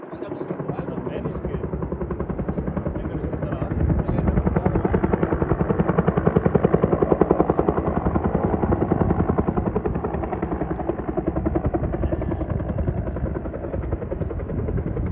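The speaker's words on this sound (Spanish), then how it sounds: "Es curioso ese helicóptero." An Air Force helicopter passes overhead above Alpine Lakes, its rotor throbbing in a steady, rapid chop that stays loud and sustained throughout.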